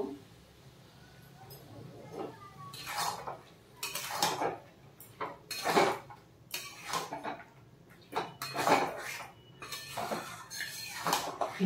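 A ground green chilli and sesame paste being stirred in a pan, with repeated metal scrapes and clinks of a spoon against the pan in uneven bursts, and someone talking quietly in between.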